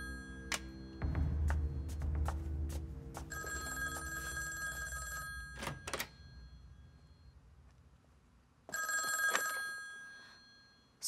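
An old-fashioned telephone rings unanswered in a quiet Republic-era Chinese residence at night, two long bell bursts with a gap between, mixed with faint clicks and ticking.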